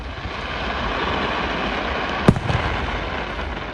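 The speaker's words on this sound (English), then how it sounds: "Heading into the night, and we have a firework display" A single sharp firework burst cracks out at night at the Goodwood Festival of Speed, over a steady broad roar of crowd and event noise, followed by a few fainter echoing pops.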